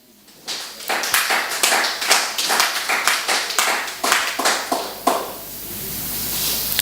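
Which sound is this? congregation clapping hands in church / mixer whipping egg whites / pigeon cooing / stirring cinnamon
congregation clapping hands in church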